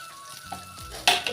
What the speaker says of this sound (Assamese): এতিয়া মই ভাজিম আলুখিনি।